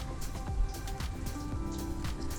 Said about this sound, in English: It's a rainy day in the boatyard.